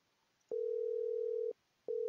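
A phone line rings in a video game after a 555 number is dialed: a steady electronic tone lasting about a second, a short gap, then the tone starting again, clean and close with no talk.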